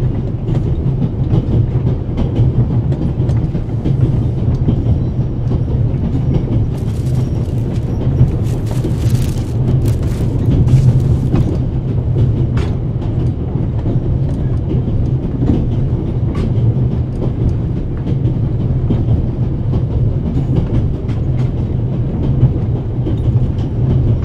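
A train rolling on rails inside The Raven Remastered, a steady deep rumble with rhythmic clickety-clack of the carriages running continuously throughout, close and fairly loud.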